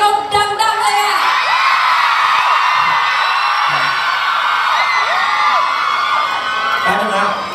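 A loud crowd screams and cheers continuously, high-pitched shrieks and whoops layered together, with a few shouting voices rising above the din.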